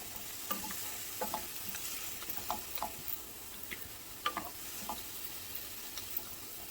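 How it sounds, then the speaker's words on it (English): Celery cooks down in a pan with a soft, steady sizzle, broken by a scattering of light clicks and taps from stirring; no one speaks. "So I'm adding the celery. And I'm going to let that cook down."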